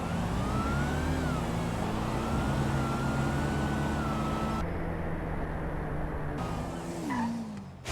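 Drag race cars launch in GTA, engines roaring loudly with rising and shifting pitch as they take off together, a steady high engine drone that drops away near the end.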